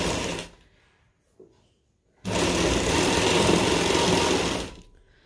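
A sewing machine stitches long seams joining palazzo trouser panels, with a short whirring run, a pause with a faint tap, then a longer, louder burst of rapid stitching that stops cleanly, close by and without talk.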